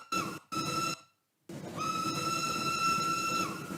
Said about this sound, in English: Just listen to that, Jacob, and tell me that doesn't sound like the Greendale Rockets whistle.